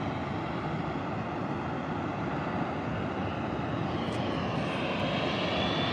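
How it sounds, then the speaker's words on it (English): Airplane on its takeoff run at San Diego Airport at sunrise, a loud, steady, broadband jet-engine roar that holds throughout, with a faint higher whine near the end. "First departure of the day."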